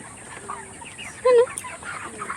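Hens on a poultry farm of about 1,260 birds cluck faintly in the background, with one brief louder squawk near the middle of the stretch and no talking over it.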